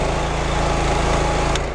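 The Honda petrol engine of a Karcher pressure washer, used for cleaning a truck, drones at high revs, loud and steady and buzzy, with a faint click near the end.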